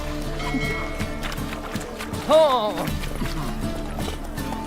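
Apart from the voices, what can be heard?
horse galloping in the video game The Witcher 3: Wild Hunt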